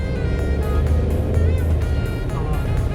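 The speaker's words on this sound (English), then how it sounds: "Look at the engine roar." Alfa Romeo Stelvio Quadrifoglio engine roaring steadily from inside the cabin, a loud continuous low drone with shifting tone throughout.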